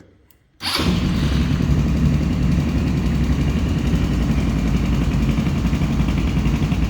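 Linhai Yamaha M180 ATV engine catching after a brief quiet moment, then settling into a loud, steady, close-up idle rumble.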